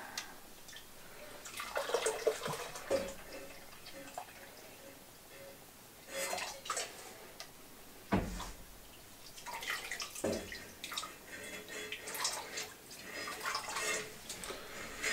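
Avocado dye liquid drips and trickles from gently squeezed yarn back into the dye pot, a faint close patter of splashes and runs coming in uneven bursts with soft handling noises between them.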